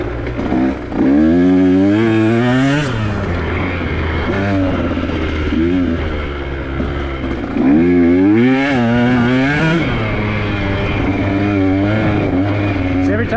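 A dirt bike on a red trail lap at Danitek revs loudly and close, its engine pitch climbing and falling in repeated throttle surges with a constant rough drone underneath.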